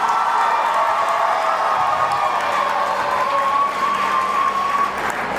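Loud, sustained applause and cheering from an audience at a school farewell event, a dense continuous wash of clapping and crowd noise lasting throughout with no pauses.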